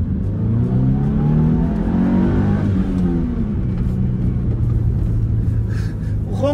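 A Subaru Legacy's engine revs up loud and close, the pitch rising and then falling back as it settles into a steady rumbling drone.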